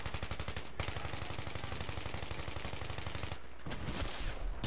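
Rapid machine-gun fire from the video game Battlefield 3 rattles in a fast, even rhythm, loud and close, stops briefly, then returns in short bursts near the end.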